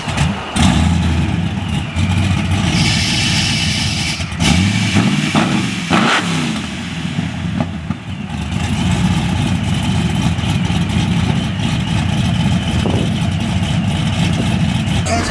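A ProCharger supercharged Chevy Malibu SS on rose gold 24-inch wheels runs loud and close, a steady engine rumble with a few brief revs and clatter in the first half before settling back to a sustained idle.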